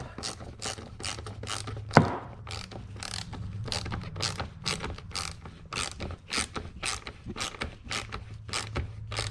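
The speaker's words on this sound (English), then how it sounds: "We can tighten the clamp." Quick ratchet clicks tightening the air filter box clamp on a Kia Optima 2.0L four-cylinder engine, a close, rhythmic series of pawl ticks with one sharp knock early on and no voices.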